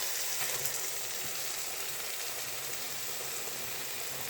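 Masala paste with coconut, green chili and ground mustard frying in a pan for narkeli potol, giving a steady, close crackling sizzle throughout with no talking.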